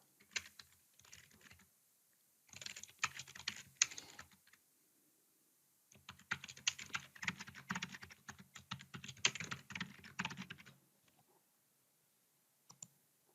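Rapid bursts of clicking keystrokes on a computer keyboard come close and crisp as a username and password are entered, in two main flurries separated by quiet gaps, with a lone tap at the very end.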